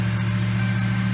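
A Ford Crown Victoria's fuel pump primes with a steady, even electric hum and faint whine, continuous and close for the whole moment, with no voices.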